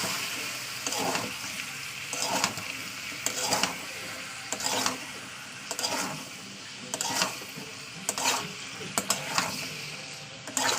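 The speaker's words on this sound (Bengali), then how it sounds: "আলুটা দিয়ে আবার এটা কষে নেব" Potatoes are stir-fried with spices in oil for an egg and potato curry, a soft sizzle under repeated scraping and clattering from a spatula, with strokes coming at an uneven rhythm.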